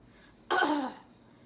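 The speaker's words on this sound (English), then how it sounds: "He began by clearing his throat." A single short, rough throat clearing, close and fairly loud, rising out of near silence and fading quickly.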